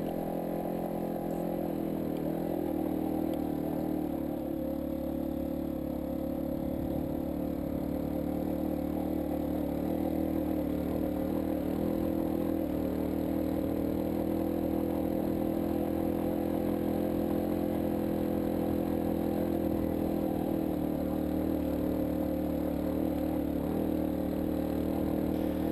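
A vehicle engine labours steadily in first gear up a steep, rough stony mountain road, a constant low drone with a bumpy rumble that holds at an even level for about twenty-five seconds.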